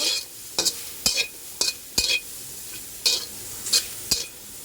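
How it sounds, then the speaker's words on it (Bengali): Small dried loitta fish (shutki) fry in oil in a pan, a steady sizzle broken by about eight sharp scraping stir strokes at irregular intervals, close and clear with no talking. "এখন লইটা শুটকিটা টালবো"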